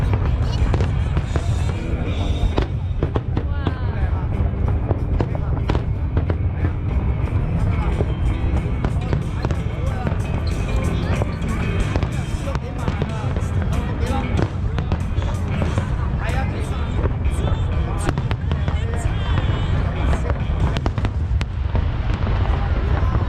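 Chinese New Year fireworks burst in Hong Kong in rapid, dense, booming volleys heard from a distance, with crowd chatter running underneath throughout.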